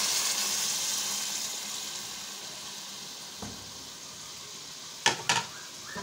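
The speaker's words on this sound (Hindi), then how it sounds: "अब इसमें हम लोग ये स्टॉक डाल देंगे" Beef stock poured into beef pulao frying in a pot with green chilli, giving a steady sizzle with a few sharp splashing bursts near the end, close and fairly quiet.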